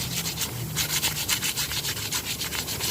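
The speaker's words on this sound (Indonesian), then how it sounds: "Gunakan saja amplas yang paling tipis." Rhythmic scratchy rubbing of very fine sandpaper against a drum brake shoe lining, quick back-and-forth strokes repeating steadily, close up with no talking.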